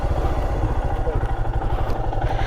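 A motorcycle engine runs close by with a steady low, pulsing throb and a light mechanical clatter, continuous throughout, on a road near Kudremukha.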